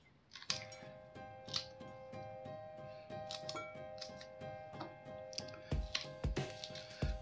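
Green chillies being cut up for a coriander and mint dish, a rapid series of crisp, close snips and clicks at an irregular rhythm against a quiet kitchen, with no voices.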